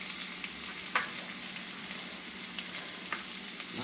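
Crushed garlic, crushed black pepper and coriander powder fry in a hot pan for a village-style Koorkka masala, a steady close sizzle broken by a couple of brief stirring scrapes, with no voices.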